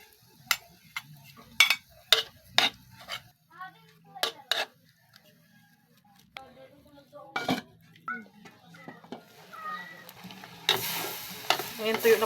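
Laing (taro leaves) cooking in a pan is stirred with a utensil, producing sharp intermittent clicks and scrapes against the pan over a faint sizzle, ending in a louder burst of frying.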